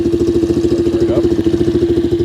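A Coolster 125cc engine, freshly tuned at the carburetor, putters close by in a fast, even beat with a brief blip of revving near the middle, loud and steady with no voices.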